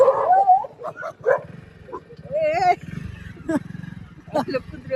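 A pack of dogs nearby yips, barks and whimpers in quick, uneven bursts, mixed with people talking over them.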